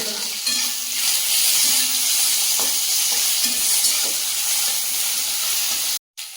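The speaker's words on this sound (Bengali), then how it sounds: "কড়ার মধ্যে দিয়ে দেবো কালো জিরে, দুটো তেজপাতা, টমেটো, কাঁচা লঙ্কা দিয়ে দেবো।" Black cumin, two bay leaves, tomato and green chilli frying in a hot wok, a loud steady sizzle and hiss with faint stirring scrapes, cutting off abruptly near the end.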